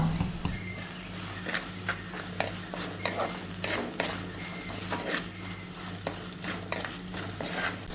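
Chopped onion with salt being sautéed in a pan for Kerala-style dal curry, a soft sizzle under repeated scraping and stirring strokes of a spatula, close and steady throughout.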